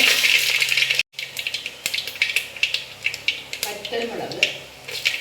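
Mustard seeds and urad dal fry in hot coconut oil in a pan, crackling and popping in quick sharp bursts, while a voice talks nearby.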